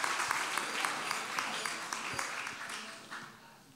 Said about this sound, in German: Und der Applaus, der jetzt kommt, gehört nur dir.